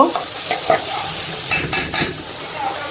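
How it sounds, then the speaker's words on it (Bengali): Spice paste with shrimp stir-fried in a pan, a loud close sizzle with quick spatula scrapes and stirring strokes recurring for a few seconds. "চিংড়ি মাছ দিয়ে মশলা কষে নিয়েছে"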